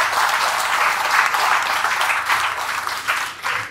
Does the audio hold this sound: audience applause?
yes